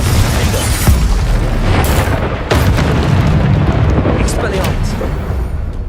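Heavy booming spell blasts from Hogwarts Legacy combat, including Confringo fire explosions, roar loud and continuous with repeated impacts layered over a dense game soundscape, with a voice speaking over the action.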